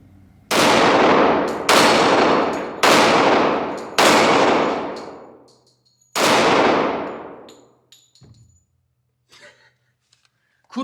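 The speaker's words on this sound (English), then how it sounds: "I'm gonna try not to embarrass myself and shoot the flippy pedals. See if I can hit those with this power puncher." A Glock 41 Gen 4 pistol fires .45 ACP rounds at flipping steel targets: five loud, sharp shots at irregular intervals, each with a ringing decay, followed by faint metallic clinks.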